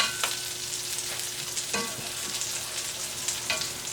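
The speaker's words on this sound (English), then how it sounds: "flip all your shrimps over" Shrimp fry in hot oil in a pan and get flipped over, giving a steady, dense sizzle broken by a few sharp scraping clicks as the pieces are turned; no one speaks.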